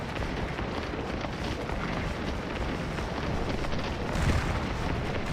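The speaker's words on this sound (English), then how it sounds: "Volley fire out." Musket volleys fire in the Civil War battle game Scourge of War, a dense, continuous crackling roar of massed gunfire that stays loud and steady throughout, with no voices over it.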